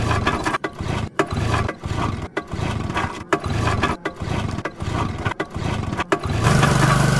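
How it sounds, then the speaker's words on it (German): A generator in the survival video game Survival Simulator runs with a loud, steady, pulsing engine drone. A rougher, louder burst comes near the end. "So, der Generator läuft."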